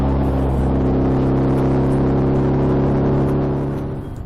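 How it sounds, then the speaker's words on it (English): A couple of Morgan cars drive past, their engines humming loud and close in a steady whirring drone that fades slightly as they move away at the end. "And a couple of Morgans go past."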